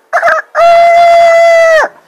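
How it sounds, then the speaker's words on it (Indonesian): A loud rooster crowing during a storytelling competition in Jakarta: a short clucking burst, then a long, powerful sustained crow that drops off sharply at the end, very close and alone. "Di pagi harinya, ayam jago berkokok sangat kencang."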